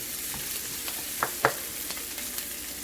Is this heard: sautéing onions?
yes